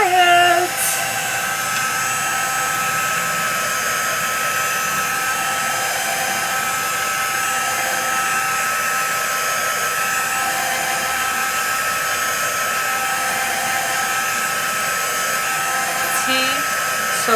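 A hair dryer blowing on a junk journal page, a loud steady whirring drone holding for the whole stretch with only slight changes in pitch, close up.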